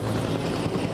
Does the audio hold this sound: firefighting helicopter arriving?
yes